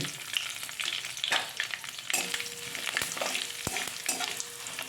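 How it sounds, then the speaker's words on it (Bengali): Curry leaves and asafoetida sizzle and crackle in hot oil on low gas as a tempering for coconut chutney, with a steady close frying hiss broken by sharp spits and pops throughout. "গ্যাসটাকে একদম লোতে করে অল্প করে এগুলো ভেজে নেব ফোড়নটা"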